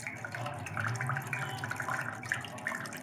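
Water trickles steadily into a cream base, a foundation, deodorant, tint and moisturizer base, while a mixer turns at medium speed, about 200 to 300 revolutions per minute. A continuous soft pouring and splashing sound runs under a low mechanical hum.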